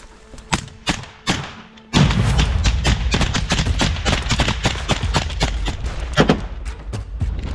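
A grenade explodes during close-quarters fighting to clear positions in Donetsk region, Ukraine: a few scattered thuds, then a sudden heavy blast followed by a loud, dense, continuous crackle of gunfire and impacts.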